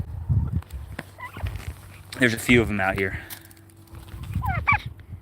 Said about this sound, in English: These turkeys are so gentle.